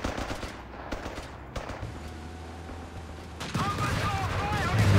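Machine gun fire in Company of Heroes 3, with Pathfinder infantry circling the gun position during a match, is heard as steady crackling bursts in a busy battle mix with other gunfire and a commentator's voice over it.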